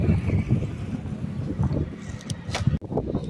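Strong wind buffets the microphone while riding a Motorstar Easyride ER150Fi motorcycle, a loud rumbling, gusting roar with uneven surges and a sharp knock near the end.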